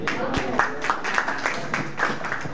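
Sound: audience applause

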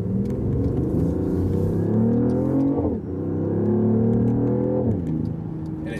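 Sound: BMW i8 engine accelerating and upshifting

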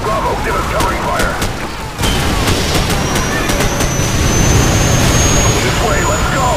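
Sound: covering gunfire in video game Call of Duty 4

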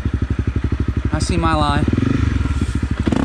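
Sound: Honda CRF 250 Rally motorcycle engine climbing a hill

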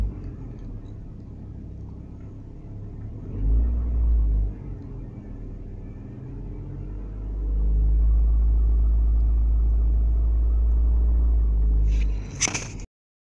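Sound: 1997 Ford Escort engine revving with accelerator

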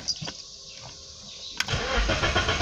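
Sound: BMW E36 engine starting after fuel pump install

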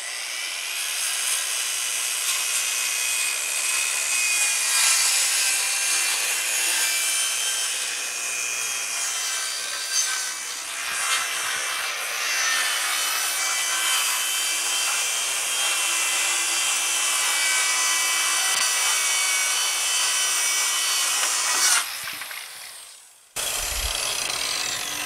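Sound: saw ripping plywood along a level used as rip fence

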